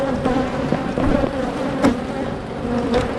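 Aggressive honey bees swarming around their hive, a dense continuous buzzing hum close to the microphone with individual bees zipping past, loud and steady throughout.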